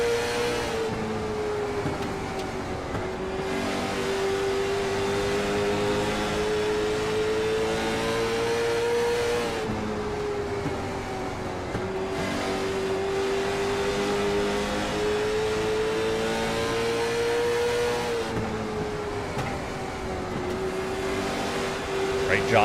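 A race car engine heard from an in-car camera during the Concrete Thunder 150, droning loudly and steadily, with repeated rises and dips in pitch as it accelerates and lifts around the laps, while commentators talk over it.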